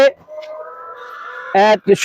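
Layer hens on a poultry farm holding roughly seven thousand birds give a long drawn-out call followed by two short, loud squawks near the end, all close by.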